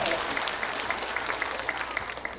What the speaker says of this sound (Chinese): 为我们自己的耐心鼓掌